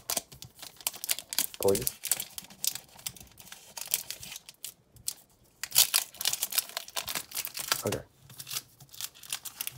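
Crinkling and tearing of plastic wrapping on Pokémon card packs come in bursts, with crisp scissor snips and rustles, interrupted by brief spoken words.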